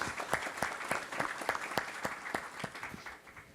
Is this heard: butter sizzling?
no